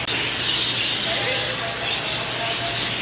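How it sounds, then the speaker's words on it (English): Birds chirp in an aviary at an aquarium attraction, with scattered high tweets and calls over a busy indoor background hum, while people talk nearby. "And then we're coming up close to the birds."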